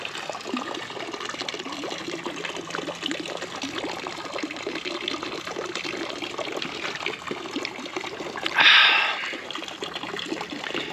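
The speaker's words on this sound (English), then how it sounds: "I can just fill up my bottle, and the water is nice and cold." Cold water from an outdoor fountain in Liechtenstein pouring steadily into a water bottle, a continuous close splashing trickle that surges briefly louder near the end.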